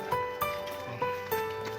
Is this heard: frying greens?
no